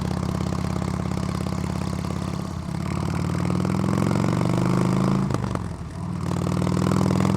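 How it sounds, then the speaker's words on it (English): A motorcycle engine runs steadily at low revs with a throbbing idle, dipping briefly twice before settling back, close and loud throughout. "So this is the motorcycle just kind of cruising along. They're just kind of idling, going straight."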